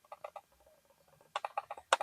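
A Keychron BM24 office mouse is clicked near the microphone: a quiet scatter of crisp, light clicks, with a denser, louder burst of rapid clicks toward the end.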